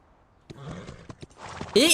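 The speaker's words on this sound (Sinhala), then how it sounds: "මේ අශ්වයට වේගෙන් යන්න බෑද?" Horse hooves clip-clop in the video game Free Fire, a few soft, quick hoofbeats under players' chatter, ending with a brief louder burst of game sound.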